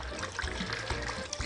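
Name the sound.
lime juice poured over raw fish and onions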